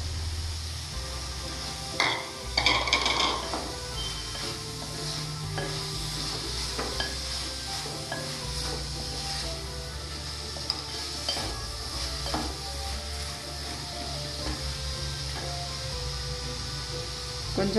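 Mushrooms sautéed in a thick pepper masala, with a soft ongoing sizzle and repeated scraping and stirring strokes of a spoon against the pan, heard close and fairly quiet.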